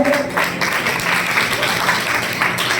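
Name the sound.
audience applause honouring students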